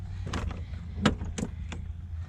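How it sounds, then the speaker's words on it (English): The double side doors of a 2000 Ford Econoline E150 van are opened, giving a few quiet clunks and latch clicks over low background hum, with no one speaking. "let me open the double doors on this side."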